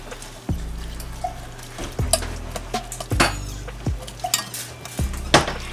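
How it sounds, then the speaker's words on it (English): A spoon stirs Thai boat noodle broth with celery, bean sprouts and water spinach in a pot, giving repeated close metallic clinks and scrapes against the pot over a low bubbling background, with no talk. "Give it a good stir."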